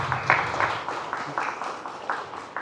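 Church congregation clapping for the bishop at a Holy Mass for the Feast of Saint Michael, heard as a moderate, uneven round of applause with bursts of hand claps that swell and fade over a few seconds.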